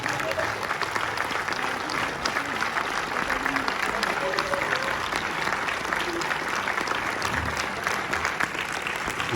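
Steady, dense applause from a cinema audience greeting a film director and his actors at a screening of Le Lion, continuing evenly with a faint murmur of voices beneath.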